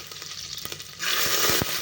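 Mustard seeds and cumin sizzle and crackle in hot oil, a steady hiss that swells louder after a moment, punctuated by a few sharp popping bursts near the close.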